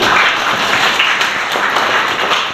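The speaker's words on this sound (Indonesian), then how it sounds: "Kita tepuk tangan bersama-sama" Catholic congregation at a community anniversary Mass clapping together, a dense, loud, steady round of many hands applauding for a couple of seconds before tapering off.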